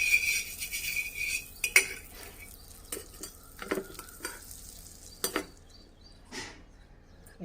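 Chapati sandwich toasting in butter on a pan, a faint sizzle broken by scattered spatula taps and clinks against the cookware.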